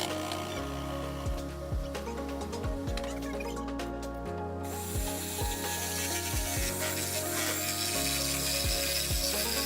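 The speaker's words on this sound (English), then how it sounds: "I ended up switching to my jigsaw for the rest of this cut" A jigsaw cuts through 1-inch-thick wood legs while building a portable folding workbench: a steady motor whine with rapid rasping blade strokes, briefly pausing midway before resuming at full speed, close and alone.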